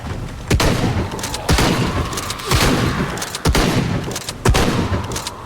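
Repeated gunfire in the Shadow of the Tomb Raider video game, with about five loud bursts spaced roughly a second apart over steady background noise.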